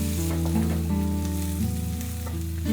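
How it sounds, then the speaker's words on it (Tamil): Onions, garlic and green chillies sizzle steadily in hot oil in a pan for a Jaffna-style squid curry, a close, even frying hiss with faint stirring and no talking. "இப்போ இந்த வெங்காயம் பூண்டு எல்லாம் நல்லா வந்து வதங்கணும்"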